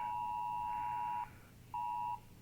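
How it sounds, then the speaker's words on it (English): A phone's emergency alert tone sounds in two steady, piercing bursts, a long one then a shorter one after a brief gap, moderately loud with no talking. "Emergency alert on the phone."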